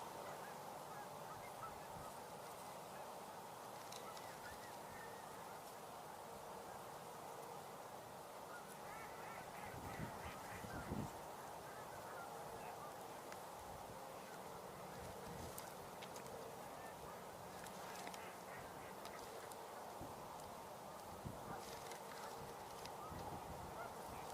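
Distant mallard ducks call outdoors, giving faint honking quacks scattered over a steady wash of wind and background noise.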